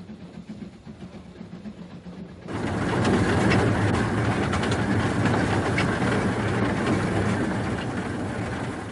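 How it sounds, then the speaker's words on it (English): A narrow gauge train on the 2 ft 6 in Welshpool and Llanfair Railway rumbles along, stepping up from quieter running to a loud, sustained clatter of wheels and carriage noise heard up close. "The gauge is 2 feet 6 inches, and this does allow the train almost to wriggle along between the hedges"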